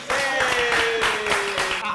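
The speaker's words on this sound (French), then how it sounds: "Applaudissez." Applause at a French engagement-themed show, steady dense clapping lasting throughout with a sustained tone running underneath and voices mixed in.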